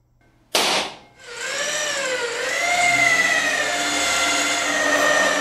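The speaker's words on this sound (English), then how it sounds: "now he's drilling his holes while it's flat" A sharp clack, then a power drill whines up to a steady high-pitched grind, drilling holes in flat sheet metal, running continuously at close range.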